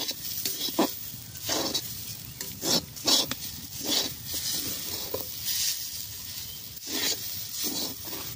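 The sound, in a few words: stirring jackfruit seed mixture in a pan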